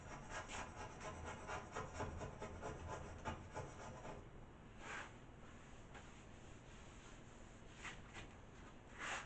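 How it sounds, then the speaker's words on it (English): Old glue is scraped off a bar pool table with light pressure, a soft, continuous rasping rub in short repeated strokes, quiet and close, with a few brief louder passes near the end. "Now I'm not pressing hard. I'm just scraping."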